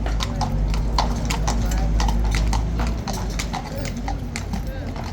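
A shod horse's hooves clip-clop in a quick, regular rhythm nearby, joined by a deep continuous rumble and people talking.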